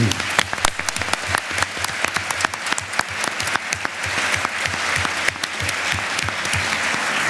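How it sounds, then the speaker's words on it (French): An audience at a Mediterranean democracy forum breaks into sustained applause, dense steady clapping filling the room throughout. "Je crois qu'on peut les saluer et peut-être les applaudir."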